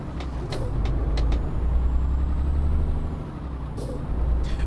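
Air brake hiss from a truck in Euro Truck Simulator 2 on Scandinavian roads, a sustained low engine rumble with short bright hissing bursts of released air, close and loud throughout.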